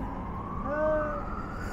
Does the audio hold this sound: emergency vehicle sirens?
yes